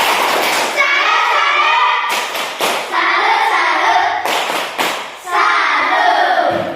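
A school class performs the tepuk salut clapping chant, rhythmic bursts of hand claps and thumps alternating with children's chanted voices in a classroom.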